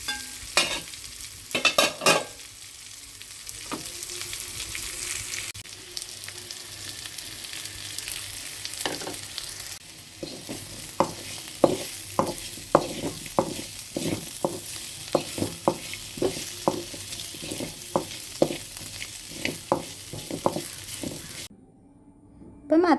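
Pumpkin mezhukkupuratti frying in oil in a pan, a soft sizzle underneath repeated sharp scrapes and taps of a spoon stirring, the strokes coming in a quick regular series toward the end.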